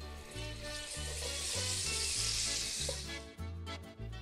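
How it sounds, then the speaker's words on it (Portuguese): Garlic and salt sizzling loudly in very hot oil in a pan, a continuous close hiss that fades near the end, with a low rhythmic thumping underneath. "Primeiro você coloca o óleo na panela quente bem quente. Em seguida, o alho com sal."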